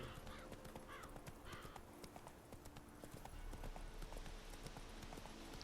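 Horse hooves clip-clop in a steady galloping rhythm, close and continuous, with a brief whinny and some ambient sounds from the video game The Witcher 3: Wild Hunt layered underneath.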